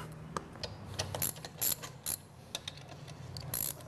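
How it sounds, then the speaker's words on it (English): Ratchet wrench loosening bolts on a car wash tire shiner unit, with quiet irregular clicking bursts and short ratcheting strokes close by over a low steady hum. "So we're going to loosen these bolts up."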